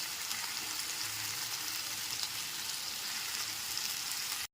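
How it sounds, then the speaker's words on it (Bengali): Tomato, ginger and green chili paste frying over a low-to-medium gas flame gives off a steady, fairly quiet sizzling hiss that runs unbroken until it cuts off abruptly, with no talking. "টমেটোর পেস্টটা গ্যাসের ফ্লেমটা লো টু মিডিয়ামে রেখে খুব ভালো করে কষিয়ে নিতে হবে"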